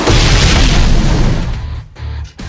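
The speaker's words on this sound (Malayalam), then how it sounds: "ബോംബ് കേട്ടിരുന്നു." A bomb explodes in the video game Blox Fruits, a loud booming blast that rumbles and decays over about two seconds, followed by a few choppy cut-off bursts.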